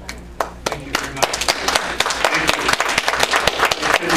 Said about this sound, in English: Applause we don't need right now, we just need to listen and reflect.